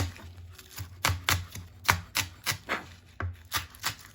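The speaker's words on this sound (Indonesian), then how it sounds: "selanjutnya iris daun bawangnya buat topping di katelna. Daun bawang sama seledri." A knife slices spring onions and celery on a board for a chicken croquette topping, giving a steady run of crisp, close chops about every half second with no talking.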